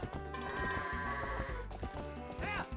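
Goats bleating in the video game The Legend of Zelda: Twilight Princess, with a short bleat near the end over steady, loud background game music.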